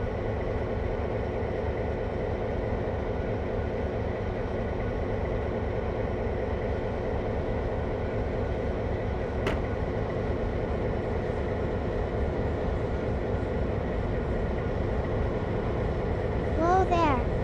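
A train's continuous low rumble and rolling rail noise as it starts to move after the brakes release, steady and loud throughout, with a brief high squeal near the end.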